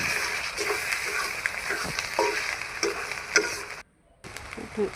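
Onion, green chili, ginger-garlic paste, turmeric and salt fry in oil while being stirred, giving a busy crackling sizzle with repeated scraping strokes, broken by a brief silent gap near the end.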